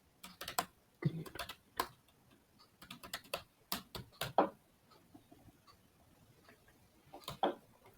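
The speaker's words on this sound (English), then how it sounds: "Let me initialize a demo React app, boilerplate React app, npm" Close, quiet clicking of computer keyboard keys in irregular bursts of taps with short pauses, typed commands at a desk.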